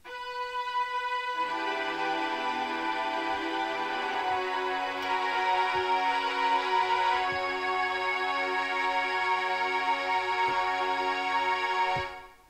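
A softened synthesizer string patch, its attack and other settings adjusted, holds one smooth, mellow chord that starts after a brief pause, sustains for about ten seconds and then cuts off, with no voices over it.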